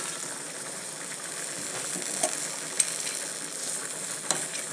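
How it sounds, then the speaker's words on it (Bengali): A pan of vegetarian curry sizzles steadily after water and lentil dumplings go in. A soft, even frying hiss is broken by a few faint clicks of a utensil. "এবার আমি জল দিয়ে দেবো। আমি ডালের বড়িগুলোও দিয়ে দেবো।"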